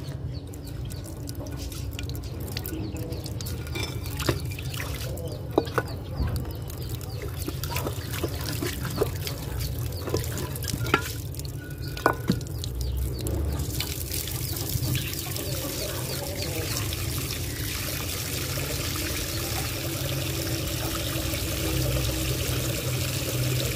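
Water is poured into a tank at a home zoo setup with quail nearby, a continuous trickling and dripping stream with scattered splashes, steady and fairly close, with no talk.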